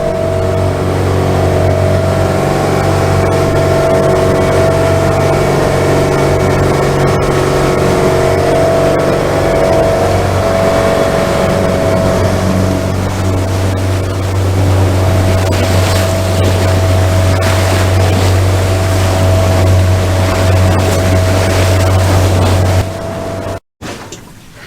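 Steady inboard engine of a 34ft timber cruiser boat running on a swell-affected sea, a loud continuous drone with strong low hum and tonal whine, holding level throughout before cutting out abruptly near the end.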